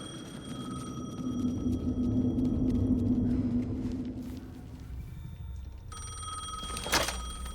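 A telephone rings in the video game Alan Wake 2 with a bright, steady electronic tone in the final seconds, heard over a low droning rumble and ambient hum.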